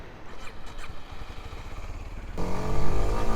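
A Kawasaki Ninja 125 motorcycle engine runs close by, first a lighter idle with faint clicks and clatter, then a louder, fuller revving drone in the last second, with no talk.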